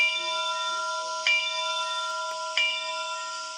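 A Bachmann EZ App sound option for a Union Pacific ALCo 2-6-0 model locomotive plays a steady electronic bell tone, with two sharper strikes ringing out over the sustained ringing, alone and fairly loud.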